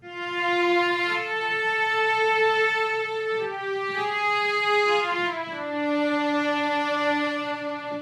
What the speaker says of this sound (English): if we're looking to add in a little bit of vibrato, it can add a little bit of more of emotional detail to your strings